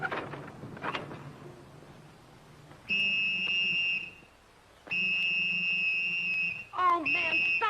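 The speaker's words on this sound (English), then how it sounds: "Oh, man, stop blowing that whistle." In an old western film scene, a whistle is blown in two long, shrill, steady blasts. Quiet talk comes before them, and a voice breaks in near the close.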